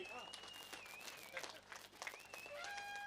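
Crowd applause at a Kambala buffalo race during the Negilu junior-category finals, a steady patter of clapping running under an announcer's voice, with thin whistle-like tones drifting over it.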